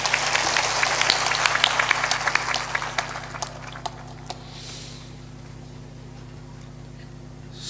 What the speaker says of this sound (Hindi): एक बार सबके सम्मान में ताली जोरदार बजा दें।